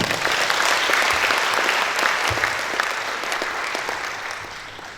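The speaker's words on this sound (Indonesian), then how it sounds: "Tepuk tangan dulu ya" A lecture audience applauds steadily for several seconds, dense clapping that stays loud and gradually eases off toward the end.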